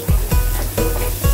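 Onion sizzles and sautés in a new frying pan for a mussel soup, with loud continuous frying and rhythmic stirring scrapes recurring every few tenths of a second, close up and without talk.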